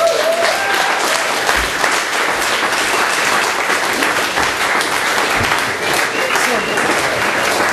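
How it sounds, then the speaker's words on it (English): Dense, steady applause from a poetry slam audience, filling the room at a constant loudness for the whole stretch, with a few voices faintly mixed into the clapping. "Can we get another round of applause for Sam Drew and the Morley Bunting team up?"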